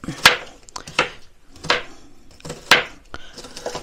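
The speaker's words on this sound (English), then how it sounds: "I'll cut all this stuff up." A knife chops vegetables sharply against a cutting board several times in an irregular rhythm, close up, with brief pauses between strokes.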